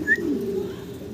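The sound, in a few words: pigeons cooing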